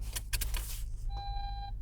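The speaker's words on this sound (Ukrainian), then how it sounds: "датчик, який сповіщає, коли хтось не пристьобнутий" A Toyota Avensis (second generation, T25) sounds its unfastened-seatbelt warning: a steady electronic beep tone inside the car after a few clicks and handling noises, clear against low cabin hum.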